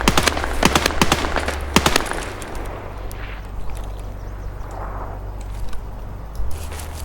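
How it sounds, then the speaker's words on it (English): Gunfire in Escape from Tarkov, a burst of rapid automatic shots at the start followed by scattered distant pops over a low rumbling background, loud then fading. "Is he shooting at me?"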